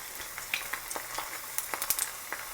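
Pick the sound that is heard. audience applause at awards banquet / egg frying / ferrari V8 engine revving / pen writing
egg frying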